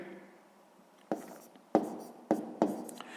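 Pen writing numbers by hand on paper during a sixth-grade math exercise, a few soft scratching strokes followed by four sharper taps and scrapes, close and quiet.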